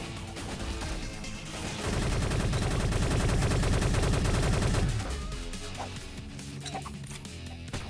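Crack Shot rifle fire in the online shooter Shell Shockers, a dense burst of rapid gunfire shots in the middle with game music and effects around it.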